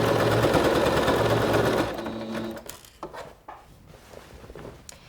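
A Singer SewMate 5400 sewing machine stitches a hem in a rapid, even mechanical chatter that stops partway through, followed by a few quiet clicks and fabric handling sounds.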